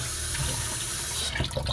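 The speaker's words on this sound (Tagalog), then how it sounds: "Yung tubig na yan para ihilamos mo natin sa mukha natin" A kitchen tap runs water for face washing, a steady splashing stream that holds evenly, then breaks into uneven spattering near the end as hands move through the flow, close and clear.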